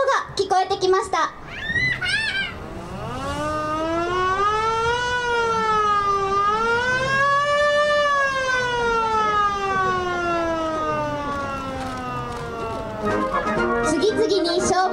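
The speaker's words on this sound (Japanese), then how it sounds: "遠くから消防車のサイレンの音が聞こえてきました。" A distant fire engine siren rises and falls in long sweeping tones over several seconds, with children's voices chattering briefly before and after.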